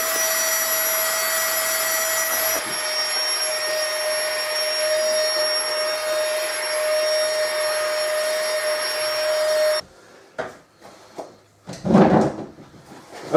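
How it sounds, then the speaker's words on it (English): Electric pump inflating a camping air bed for wild camping, a loud steady whining drone for about ten seconds that cuts off abruptly, followed by a few close clunks and handling knocks. "It takes about 2 minutes to pump the bed up"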